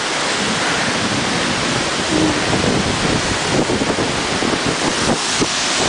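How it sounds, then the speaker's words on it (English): A waterfall roars nearby as a constant broadband rush, with gusts of wind buffeting the microphone. No one speaks. "We're closer to the waterfall."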